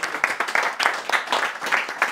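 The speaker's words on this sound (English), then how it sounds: "Give him a round of applause for fixing all of these guitars" A small crowd claps quickly and steadily for a guitar tech, a dense, lively patter of many hands at close range with no voices.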